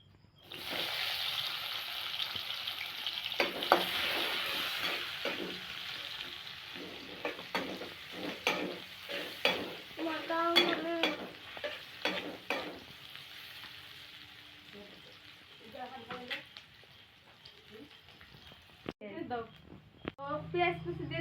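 Chopped onion sizzles in hot oil in a pan while it is stirred, giving bursts of frying crackle and scraping, with a voice talking in between.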